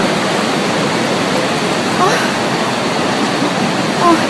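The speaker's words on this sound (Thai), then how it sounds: "เสียงน้ำตก เคลือบ ทุกทิศทุกทางอ่ะ" Iguazu Falls in Brazil roars as a dense, loud and continuous rush of water that fills the air all around, with a few faint voices heard briefly beneath it.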